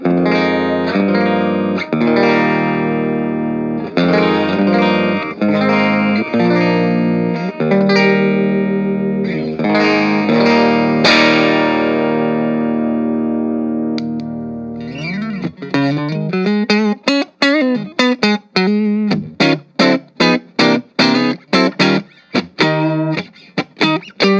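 A clean electric guitar on the bridge pickup plays through an Orange Crush 20RT amplifier, sustained chords at first, then a run of quick picked notes with short gaps, loud and close.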